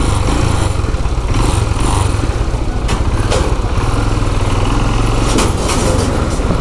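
A motorcycle engine hums continuously and loudly during a ride on a road in India, with a steady buzzing drone and occasional brief swells of wind and traffic noise.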